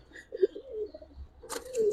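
Silver, giribaz, racer and fancy pigeons give a short rolling coo nearby, followed by a quick rustling burst as a bird shifts or flaps.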